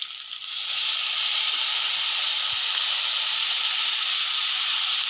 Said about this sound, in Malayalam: ഇനി അതിനകത്തേക്ക് നമുക്ക് കുറച്ച് ചോറിട്ട് കൊടുക്കാം.